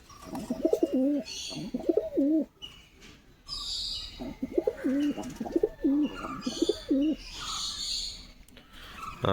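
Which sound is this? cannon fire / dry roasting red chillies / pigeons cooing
pigeons cooing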